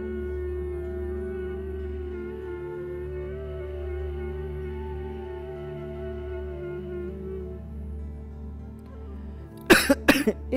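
A short burst of several sharp coughs near the end, following a long stretch of low steady humming tones from bhramari yoga breathing.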